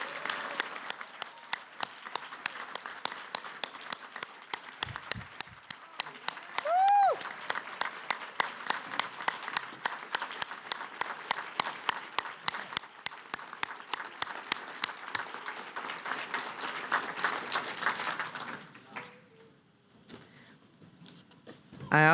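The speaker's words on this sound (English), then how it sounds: "Can we give our 20 under 20 awardees one more round of applause?" An audience applauds 20 under 20 awardees with sustained clapping for about eighteen seconds, fading out near the end, with a brief voice heard in the middle.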